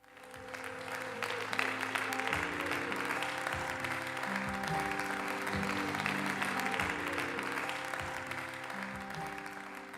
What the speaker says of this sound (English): So you can hear clapping, and it really gives it that live feel